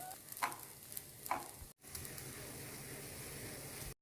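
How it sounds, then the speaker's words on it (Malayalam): Broken wheat dry-roasts in a hot pan for upma, giving a soft, faint sizzling hiss. Two brief scraping stirs come early, then an even crackle continues alone. "അപ്പോൾ ഇത് പൊട്ടി തുടങ്ങിയിട്ടുണ്ട്"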